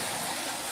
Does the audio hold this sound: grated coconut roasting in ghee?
no